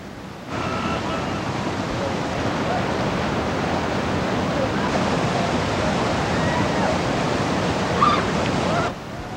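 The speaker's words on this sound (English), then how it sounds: "The water is pushed over to the side and then all released with a burst of natural energy." River water rushes over fast rapids past old mill ruins at Stinky Falls, a steady loud broadband roar that holds evenly for several seconds with no voices.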